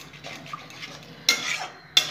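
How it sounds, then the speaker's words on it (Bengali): Masala for an egg curry is sautéed in a pan, a quiet simmering hiss with two brief louder scrapes of a utensil against metal, close by. "ভালো করে কষিয়ে নেব"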